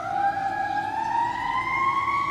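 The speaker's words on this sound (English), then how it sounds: "I'm sorry about the sirens, folks." Sirens wail at a distance, a steady rising tone drifting upward as emergency vehicles pass, with low traffic rumble beneath and no voices.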